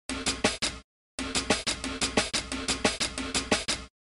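Electronic drum kit pads running a section of a classic drum break, a steady syncopated groove of kick, snare and hi-hat hits with one short pause near the start, close and moderately loud, alone.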